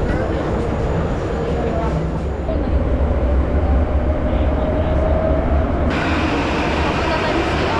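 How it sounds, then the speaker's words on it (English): A Prague metro train rumbles loudly and steadily, its deep continuous roar shifting in tone as it moves through the station, with people talking nearby. "No, tram, it's a metro."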